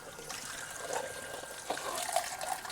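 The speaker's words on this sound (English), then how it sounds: "Now rinse it off. That is the type of sound you should be hearing all the time." Tap water running over a washed dish during rinsing, a steady close splash and trickle lasting the whole moment with small shifts as the dish moves under the stream.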